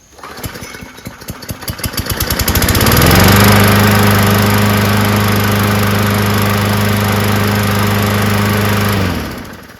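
Craftsman 16-inch 38cc chainsaw engine is pulled over with rapid rhythmic cranking, catches and roars into a loud, steady run close by, then cuts off near the end.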